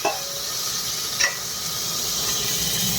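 Onion and tomato frying in a pressure cooker give a steady, soft sizzling hiss throughout, with a brief scrape or clink of a utensil near the start.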